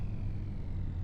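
A small car in Farming Simulator 25 runs with a low, steady engine rumble and hum, held continuous and even for about a second.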